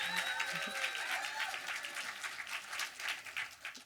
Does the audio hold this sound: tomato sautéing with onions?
no